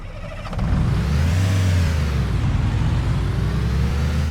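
American school bus engine in OMSI 2 accelerating through a U-turn, a deep, loud diesel drone rising and holding steady with a whining pitch that climbs and dips.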